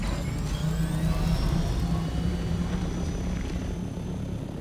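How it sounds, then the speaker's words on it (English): An ornithopter in the video game Dune: Awakening flies with boosters fitted, giving a steady, loud droning engine whir with a low hum and rising whine, with no talk over it. "We'll swap over to my chopper that has the boosters on it, so this goes a little faster."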